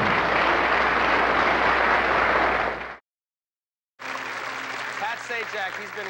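A large theater audience applauds and cheers in a dense, loud roar for a stage singer. After a brief silent gap the applause resumes with voices mixed in.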